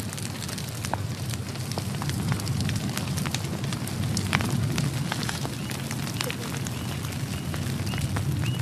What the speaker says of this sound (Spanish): Hacia el final de la estación seca, en abril, encienden fuegos para limpiar las zonas donde plantarán.